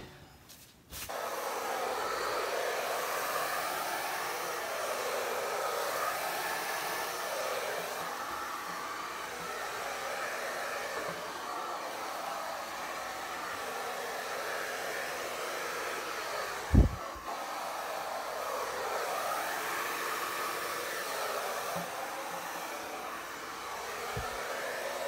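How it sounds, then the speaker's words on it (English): An electric hair dryer blows on a Dutch-style acrylic paint pour made with Arteza fluid paints, running as a loud, steady whoosh for about 25 seconds, with a sharp thump midway and no talk. "I'm gonna get my hair dryer and I'm gonna"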